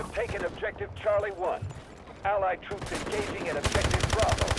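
Bursts of rapid gunfire in the FPS game Delta Force on PS5 Pro crackle under excited talking, building into a dense stream of shots toward the end.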